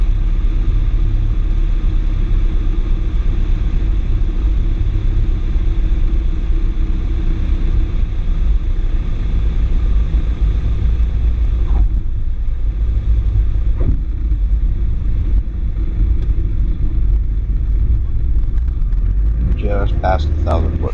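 Steady loud engine drone and rumble of a small airplane on final approach to landing during a first solo flight, continuous throughout, with a few clicks and a brief burst of activity near the end.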